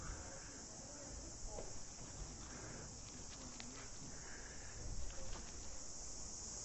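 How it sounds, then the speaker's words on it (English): Cicadas drone steadily at the emperor's tomb of Tu Duc in Vietnam, a faint high-pitched buzz that stays even throughout while soft footsteps and scattered background sounds come and go. "They sound like cicada."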